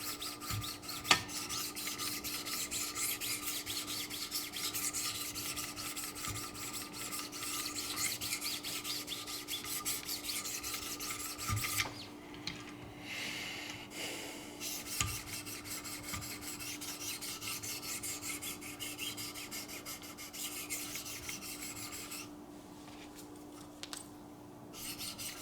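Knife sharpened on a 1000 grit stone in a Wicked Edge sharpening system, a steady faint abrasive rubbing with repeated rasping strokes running throughout, close and without talk.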